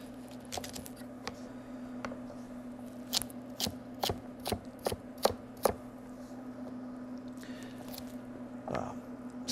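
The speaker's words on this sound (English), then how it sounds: "These you just rough chop up." A knife rough-chops celery, onions, carrots and fresh herbs for stock on a cutting board, giving a run of sharp, irregular thunks over a steady low hum.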